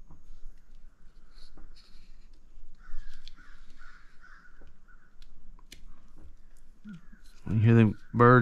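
Crows caw outside in the morning, a series of faint, distant calls scattered through a quiet indoor space, followed by a person talking near the end.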